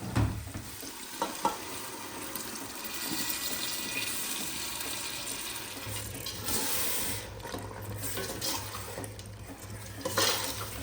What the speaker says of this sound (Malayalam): ഇനി ഇതിലേക്ക് നമ്മൾ നേരത്തെ വേവിച്ച് വെച്ച ബീഫ് ചേർത്ത് കൊടുക്കാം